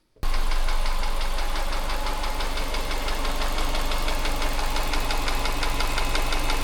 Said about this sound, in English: It's just piston slap, don't worry.